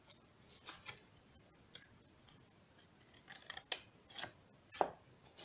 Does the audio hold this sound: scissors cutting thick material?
yes